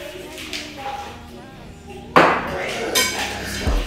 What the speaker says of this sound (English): We're gonna stir it around and we're gonna get this pancakes going.